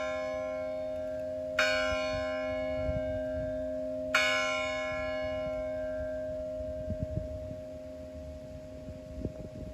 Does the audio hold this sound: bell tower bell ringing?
yes